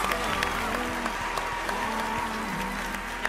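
Audience applause for the dads at the Greece's Got Talent 2022 kids show, steady dense clapping from a crowd throughout, with a voice speaking over it.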